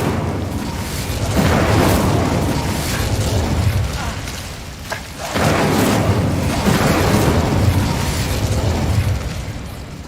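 A fire spell cast in the game Hogwarts Legacy, giving a loud, sustained roaring burst of flame that swells, dips briefly midway, then surges again.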